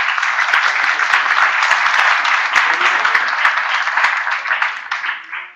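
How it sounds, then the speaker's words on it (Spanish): Steady audience applause fills a room at a free project-management seminar, dense and continuous for about five seconds before tapering off at the end. "Un aplauso."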